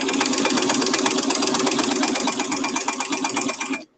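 A sewing machine runs steadily while stitching quilted tote fabric, a loud, fast, even mechanical chatter close by that stops abruptly at the end.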